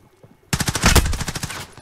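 Rapid burst of MP5 submachine gun fire in a video game, loud and close, beginning abruptly after a brief quiet moment and rattling steadily for over a second.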